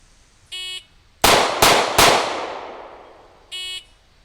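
Three sharp, loud handgun shots from a 940 fired at 7 yards in quick succession, each ringing out and fading, with a short electronic timer beep before and after.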